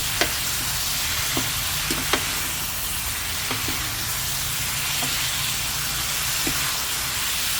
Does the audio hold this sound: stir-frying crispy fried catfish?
yes